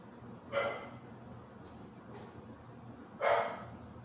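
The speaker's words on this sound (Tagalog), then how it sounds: "Si Batik yun tumatahol sa taas" Two distinct dog barks sound from upstairs a few seconds apart, muffled and somewhat distant, with a couple of fainter yips between them.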